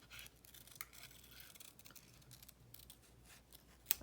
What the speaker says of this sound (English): I'm going to cut on the line